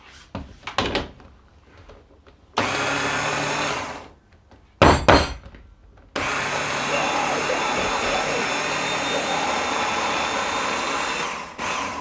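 Electric blender whirring steadily as it mixes carrot top pesto in a home kitchen, running loud and continuous for several seconds after a few short clicks and a brief earlier burst.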